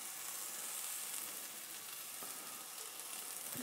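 Scallions and minced ginger hitting hot oil in an orange cashew chicken stir-fry, a soft, steady sizzle with faint crackles, close and unbroken, no voices.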